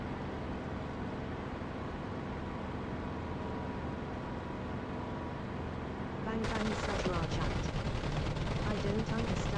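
Rapid cannon and machine-gun fire from an aircraft strafing a row of ground trucks in a combat flight sim, a loud sustained burst starting partway through over a steady engine drone.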